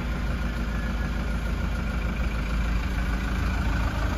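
A 2018 Toyota HiAce engine idles steadily after a timing belt change, a continuous low rumble held close and even for the whole stretch, with no talk over it.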